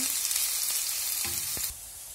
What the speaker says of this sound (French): dans une poêle chauffée avec un filet d'huile, je commence par mettre l'oignon et je le laisse revenir un petit peu